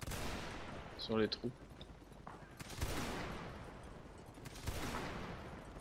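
A musket volley in a Napoleonic-era battle video game crackles out as a ragged burst of shots, followed by further scattered reports and rolling gunfire, with someone speaking French briefly over the top.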